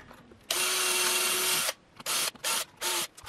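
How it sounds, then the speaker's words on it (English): A power drill bores holes through a plate into wood: one long whining run, then several short bursts with brief pauses between, loud and close, with no talking. "I'm just going to place this down and drill holes"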